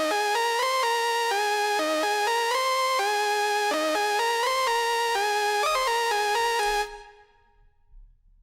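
Synth lead rebuilt in Sylenth1 from a Nexus preset plays a bright, rhythmic chord melody with even note changes, loud and unaccompanied, then cuts off and leaves a short, faint tail.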